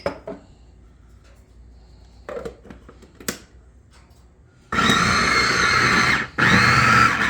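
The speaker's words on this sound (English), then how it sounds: "I've got some leftover sausage here, so we'll drop that in the mix and chop again" A food processor chops leftover sausage meat, first a few clicks and knocks of handling, then two loud whirring bursts of the motor running close up, separated by a short pause, with no voices.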